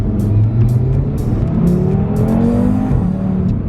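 A Stage 1 tuned 2018 Audi RS3 with a turbocharged 510 bhp engine accelerates hard in first gear, the engine note climbing steadily and loud and close throughout, with no talking.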